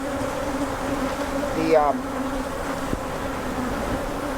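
A honeybee swarm hums steadily nearby during a hive inspection, its even drone holding throughout as one bee buzzes close past the microphone.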